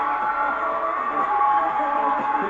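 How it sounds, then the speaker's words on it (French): A studio audience cheers for Lucie on the Star Academy show, a steady crowd roar with whoops and applause, loud and continuous and blended into a dense wash. "On peut applaudir Lucie aussi!"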